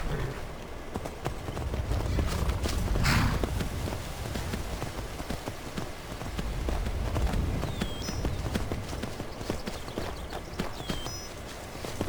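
Shadowmere, the horse in the video game Skyrim, gallops in a steady run of clip-clopping hooves, with a brief louder whoosh partway through.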